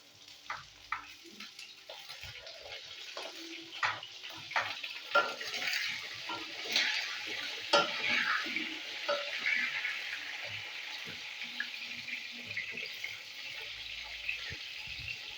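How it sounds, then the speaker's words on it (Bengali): Pointed gourd (potol) frying in a pan crackles and sizzles with irregular pops and spatters, moderately loud and close, settling into a steadier hiss toward the end. "তো পটলগুলোকে আগে আমি ভেজে নিই"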